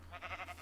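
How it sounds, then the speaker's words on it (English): A single short, wavering bleat from a gray sheep in the Minecraft video game, close and fairly quiet, alone. "That's a gray sheep."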